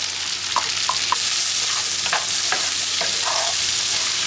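Onions tossed into a hot frying pan for a Thanksgiving meal sizzle loudly and steadily, with a few scraping stir clicks and spatters breaking through the constant hiss.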